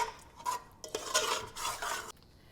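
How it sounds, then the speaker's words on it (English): A spoon stirs lamb vindaloo curry after sugar has gone in, scraping and clinking against the pot in several close bursts over a couple of seconds, with no voices. "I'm now going to mix it well."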